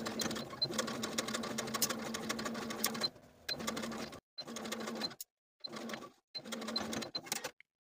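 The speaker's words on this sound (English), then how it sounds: "Then we'll sew from the top to the dot" A sewing machine stitches a dress facing from the top down to a marked dot, running in close, rapid bursts with short pauses between runs.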